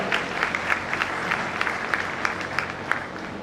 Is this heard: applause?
yes